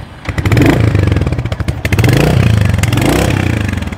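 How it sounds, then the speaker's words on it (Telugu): Close, loud new motorcycle engine running and revving as it is started and ridden for the first time, a throbbing pulsing idle rising into two surges of acceleration. "ఫస్ట్ టైం మన బైక్ని స్టార్ట్ చేసి నడుపుతున్నాం."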